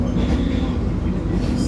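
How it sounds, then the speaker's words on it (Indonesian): Steady low rumble of a moving train carriage heard from inside during a ride, continuous and fairly loud, with faint voices talking underneath. "mau ngasih lihat naik kereta"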